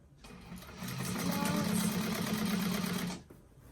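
A sewing machine stitches a bag seam closed, its motor whirring steadily and loudly for about two seconds before stopping abruptly.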